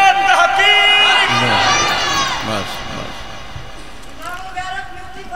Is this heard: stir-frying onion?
no